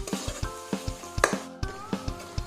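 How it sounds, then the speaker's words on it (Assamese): Spices and sesame fry in a pan, a crackling sizzle broken by regular scraping stir strokes and occasional clinks of a utensil against the pan, close and continuous with no talk. "আৰু এইখিনি একেলগে অলপ সময় ভাজি থাকিম।"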